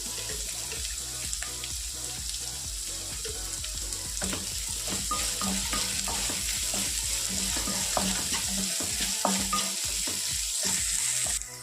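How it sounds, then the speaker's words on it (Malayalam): Chopped small onions with salt fry in a pan for a mutton dish, a continuous dense sizzle with scraping stirs and occasional clatter, steady and close throughout. "നമ്മുടെ ഉള്ളി വഴറ്റി എടുത്തിട്ടുണ്ട്"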